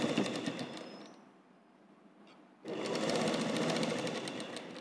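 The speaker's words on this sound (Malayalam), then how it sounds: "ഇനി ഇവിടുന്ന് ഇങ്ങനെ ഇങ്ങോട്ട് സ്റ്റിച്ച് ചെയ്ത് കൊടുക്കുക" A sewing machine stitches polyester petticoat fabric in a steady mechanical whir, pausing for about a second and a half in the middle before resuming at a strong, even pace. There is no talking.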